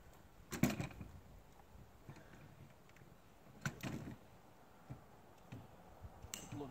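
Quiet metallic clicks and clacks as a Palmetto AR-15 rifle is opened up after about 1,000 rounds, a few sharp separate snaps spaced seconds apart over faint room hiss.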